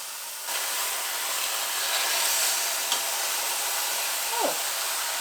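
Ground beef browning in two skillets, a broad steady hiss of sizzling fat that holds evenly throughout with a faint brief squeak near the end, no one speaking.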